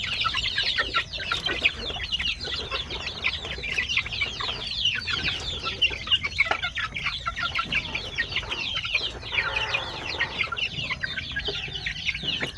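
A crowded pen of native chickens and chicks on a small farm, with constant high chick peeping and scattered clucks from hens, close and loud throughout.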